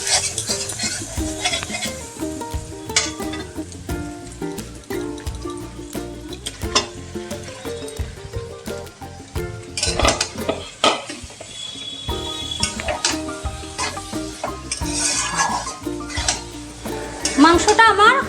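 Mutton is stirred and fried in spice masala, with repeated metal spoon clanks and scrapes against the pot over a constant close sizzle, in an uneven rhythm.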